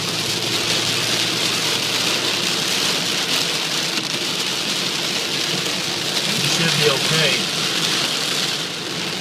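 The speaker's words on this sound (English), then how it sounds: "rain is coming down so hard." Heavy rain hammers a car driving on a highway in a storm, a loud, constant roar of downpour and road noise heard from inside, with someone speaking briefly over it.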